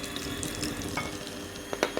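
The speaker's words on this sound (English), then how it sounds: "And you're going to add into that your sugar." Sugar going into softened butter in a mixing bowl for a Christmas red velvet cake, heard as a steady granular stirring and scraping with a few sharper clinks toward the end, close and fairly quiet.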